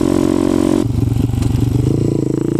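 A motorcycle ridden over a bumpy road, its engine droning loud and close with rattling clatter and a shift in engine note partway through.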